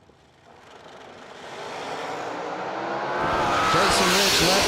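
Drag racing cars launching at a strip event, engine roar swelling from quiet to a loud, high-revving scream over a few seconds, with no talk.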